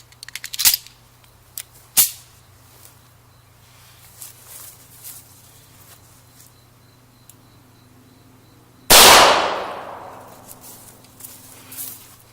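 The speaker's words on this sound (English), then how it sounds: "Shot from the long-barreled pistol." A long-barreled pistol fires 147-grain jacketed hollow point rounds into ballistic gelatin, with a loud sharp report near the end preceded by a few smaller clicks and knocks, all over a steady low hum.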